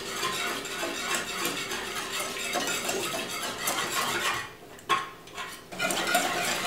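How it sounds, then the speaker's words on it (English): A whisk beating a thick tahini sauce in a bowl, a busy continuous scraping and clinking close by, with a brief pause and a couple of sharper knocks toward the end. "we can whisk this all together"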